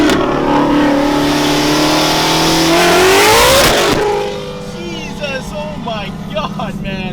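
A 900 whp turbocharged car accelerates hard, its engine note climbing loud and close, then cuts off sharply into a blow-off hiss and fluttering turbo sounds as the revs drop.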